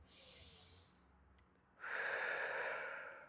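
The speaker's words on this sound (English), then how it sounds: "breathing out." A slow yoga breath is drawn in faintly, then released as a long, loud, airy exhale close to the listener, with no talking.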